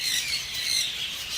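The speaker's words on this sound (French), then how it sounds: "je pense que vous entendez le bruit des oiseaux" Many birds at a zoo aviary squawking and chirping together in a dense, continuous high chorus, with no talk.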